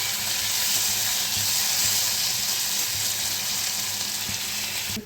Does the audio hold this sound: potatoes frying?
yes